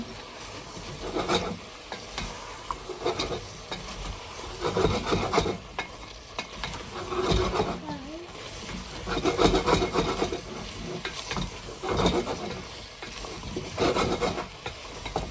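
A spoon scrapes and rubs through spiced duck bhuna in a pan, in repeated rhythmic raspy strokes with a faint sizzle beneath, close and moderately loud, with no talking.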